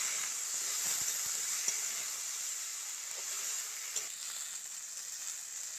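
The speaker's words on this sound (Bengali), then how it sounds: "সব সবজিগুলো কিন্তু খুব ভালো করে ভেজে নিয়েছি।" Vegetables and soaked chickpeas fry in a pan for a leafy greens chorchori, a soft continuous sizzle and hiss with a few faint stirring knocks.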